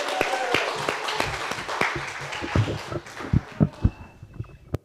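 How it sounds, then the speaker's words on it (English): An audience applauds for William Guntert at a Taconic Hills school storytelling event, a brief burst of clapping with sharper individual claps and a few louder thumps toward the end. "Let's give William a round of applause."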